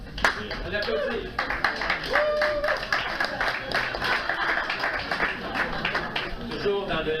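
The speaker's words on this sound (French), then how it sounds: "Edgar Pousse, on l'applaudit." Lively applause from a small poetry-reading audience greets poet Edgar Pousse, with distinct individual hand claps rising and falling unevenly and some voices murmuring underneath.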